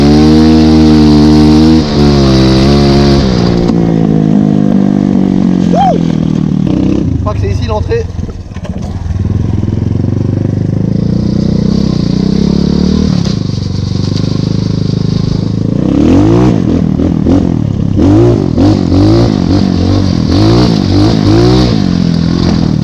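A BMW E36 fitted with a Felony body kit drives along, its engine note rising and falling through revs, with someone talking over it throughout.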